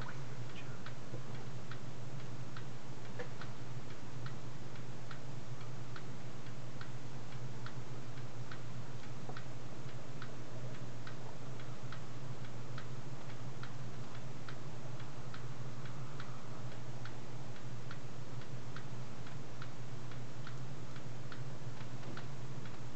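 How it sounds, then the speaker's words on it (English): An antique Ansonia Clock Co. clock in working condition ticks steadily and evenly, close and clear over a low constant hum, with no talking. "This clock is running and in good condition."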